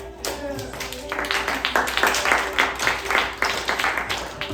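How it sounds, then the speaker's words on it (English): Audience clapping at a live comedy or performance show before a headline act, a crowd's rhythmic claps building loud and steady, with some voices underneath. "Let's get some claps going."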